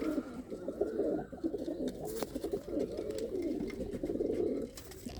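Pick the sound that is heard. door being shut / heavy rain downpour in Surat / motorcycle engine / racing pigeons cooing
racing pigeons cooing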